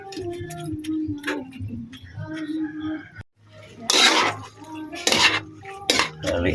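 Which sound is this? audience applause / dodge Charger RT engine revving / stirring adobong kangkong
stirring adobong kangkong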